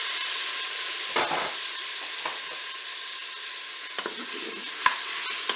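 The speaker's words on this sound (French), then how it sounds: "ça fait à peu près 1 minute que mes noix de Saint-Jacques sont en train de revenir dans ma cuve" Scallops sizzling steadily in melted butter in a Cookeo pot, a constant hiss of frying with a few soft stirring scrapes and clicks.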